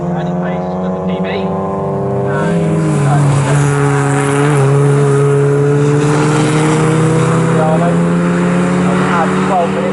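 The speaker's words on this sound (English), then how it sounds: "Twin Spark Cup cars." Alfa Romeo Twin Spark Cup race cars lapping the Snetterton circuit, several engines droning and rising in pitch together, loud and steady throughout with a brief tire squeal.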